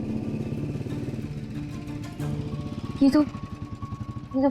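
A motorcycle engine putters steadily with a throbbing idle while people talk over it.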